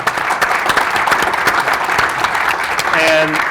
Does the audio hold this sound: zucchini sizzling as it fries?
no